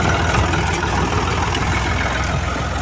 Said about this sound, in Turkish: Traktör çalışmamış arkadaşlar. Onu çalıştırdık şimdi.